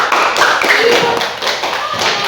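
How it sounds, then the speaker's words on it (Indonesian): Classroom applause for a student group that has just presented a handmade product project, a quick burst of clapping from a room of pupils that holds steady for about two seconds with voices mixed in. "tepuk tangan untuk kelompok 1"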